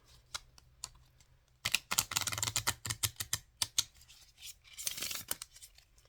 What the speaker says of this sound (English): So let's go ahead and get our cards and shuffle.